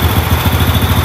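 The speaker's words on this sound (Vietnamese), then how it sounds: "Rồi giờ em đạp cho nó nổ máy." A motorcycle engine, just kick-started for an ignition-timing check, runs at a close, loud, even idle with rapid regular pulses, and nobody speaks.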